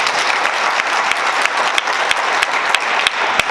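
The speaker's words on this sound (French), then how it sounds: "Je demande d'applaudir pour cela." Audience applause at a university diploma ceremony in Bamako, a steady dense clatter of many hands with a few sharper claps standing out, loud and sustained throughout.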